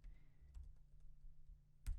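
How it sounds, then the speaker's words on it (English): Quick bursts of keystrokes on a computer keyboard, soft close clicks tapped in a short run and then a louder final keypress, over a faint steady hum. "start typing in my new tag"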